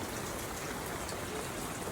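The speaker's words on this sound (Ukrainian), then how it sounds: "Ми тут сидимо, чекаємо, поки дощ перестане." Steady, dense rain pours down on a house under construction, with a new terrace and a metal-tile roof being installed, an even hiss filling the whole moment with no voices.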